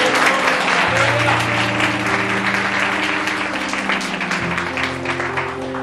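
A church congregation at a Bengali sermon claps loudly together, a dense, sustained burst of many hands in a room, with steady held musical tones sounding underneath throughout.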